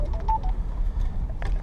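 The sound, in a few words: mobile phone ringing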